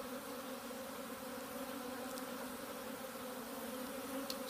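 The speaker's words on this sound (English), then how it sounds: "these are all just worker bees. They're small worker bees." Small worker bees at a farm hive, a dense, even buzz of many insects from close by, faint but steady throughout with no pauses or talking.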